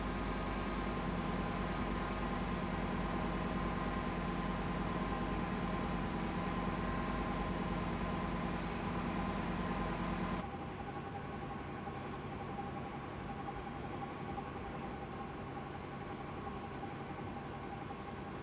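A car engine idles steadily at close range during an oil change, a constant broadband rumble that drops to a quieter, thinner hum partway through, with no talk.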